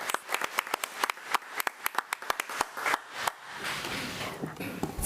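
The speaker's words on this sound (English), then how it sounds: "another round of applause" Scattered applause at a school district committee meeting, a few distinct sharp claps in uneven rhythm at first, then blending into a softer wash of clapping and room murmur.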